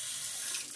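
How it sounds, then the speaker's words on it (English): Tap water runs in a steady, close hiss as a blade is rinsed, a brief, even wash of splashing with no voices over it. "let me rinse it"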